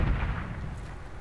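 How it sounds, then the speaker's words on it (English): Grenade blasts in Medal of Honor on PS3, a heavy booming explosion at the start that rolls off into a rumbling tail, loud and close with no talk. "Let me lob a grenade over there and another one"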